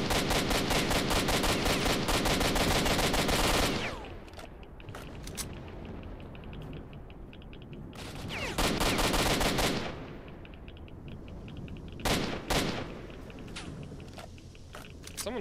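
Gunfire in the game S.T.A.L.K.E.R. Shadow of Chernobyl comes as loud, rapid automatic bursts, one long burst at the start and another near the middle, followed by a few sharp single shots and quieter mechanical clatter between them.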